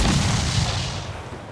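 Ship cannons boom in a naval battle in Assassin's Creed IV Black Flag, a dense, continuous barrage of loud overlapping blasts with rumbling low end that slowly fades toward the end.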